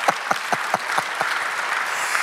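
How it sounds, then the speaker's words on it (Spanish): A church congregation applauds steadily for a couple of seconds, dense clapping with a few sharper claps standing out near the start. "Denle un aplauso al Señor si le gustó."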